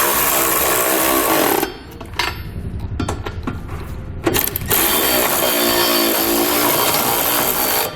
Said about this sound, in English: I'm going to come back with a 3/4 inch socket and I'm going to snug up all the flange nuts.